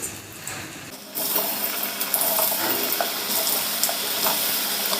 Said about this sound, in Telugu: ఆయిల్ బాగా హీట్ ఎక్కిన తర్వాత ఫ్లేమ్ మీడియంలో పెట్టేసుకొని మనం ఇందాక చేసి పెట్టుకున్న ఆలు ముక్కల్ని వేసుకోవాలి